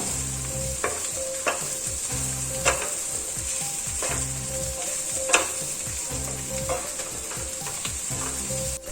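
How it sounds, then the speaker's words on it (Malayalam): Chapati pieces tossed with masala in a frying pan over low flame, a continuous sizzle broken by rhythmic scraping strokes about once a second and occasional sharp spatula knocks, close and clear. "ചപ്പാത്തിയിലോട്ട് നന്നായിട്ട് മസാലയൊക്കെ പിടിക്കുന്ന രീതിയിലൊന്ന് മിക്സ് ചെയ്ത് കൊടുക്കുക"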